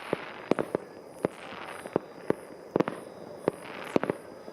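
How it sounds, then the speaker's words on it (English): New Year's fireworks over Barichara, Colombia, crack and pop in scattered bursts, several sharp reports at varying distances over a faint background hiss. "There is fireworks in Barichara."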